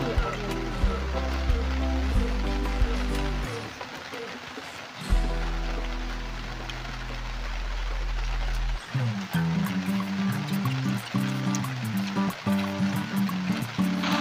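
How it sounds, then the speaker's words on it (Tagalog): Sudden rain pours down during an outdoor boodle fight meal, a dense steady hiss of drops on surfaces that fills the scene, with voices and some tonal background sound underneath. "Inaabutan na po kami ng ulan, biglang umulan."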